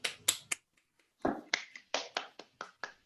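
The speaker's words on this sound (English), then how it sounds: "Self-clap." A lone person claps for themselves at the close of an online workshop session: a few sharp, dry claps, then a pause and a run of evenly spaced claps, close and crisp in an otherwise quiet room.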